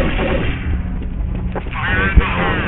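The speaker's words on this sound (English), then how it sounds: "Can barely hear you guys over the gunfire." Gunfire in a multiplayer video game on a server, a continuous dense barrage of shots and booms with one sharp louder pop, under the players' voice chat.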